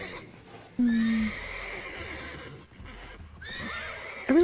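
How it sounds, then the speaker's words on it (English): Horses in The Witcher 3 video game give loud, close neighs and whinnies, two in quick succession and another at the end, with faint hoof clip-clop between them. "the horses are so loud"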